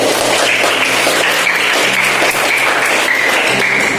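Class of fifth-grade schoolchildren clapping together in a classroom, loud, dense, continuous clapping with a few voices and a faint steady hum beneath.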